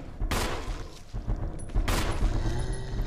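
Gunfire in the Resident Evil video game: two heavy broadband blasts about one and a half seconds apart, each with a long booming tail, loud and close, with no talking.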